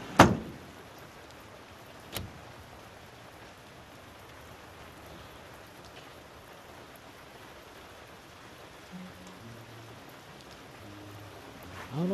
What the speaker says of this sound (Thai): มันตากฝนตัวเปียก